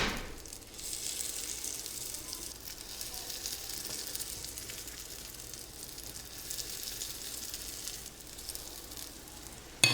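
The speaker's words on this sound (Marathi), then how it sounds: "आता यामध्ये हे जे मिश्रण तयार केलं आहे हे घालायला सुरुवात करूयात कडेने आधी घालत जायचं" Poha and moong dal appe batter sizzles steadily in a hot appe pan, a continuous close crackling hiss that holds evenly throughout with no voices over it.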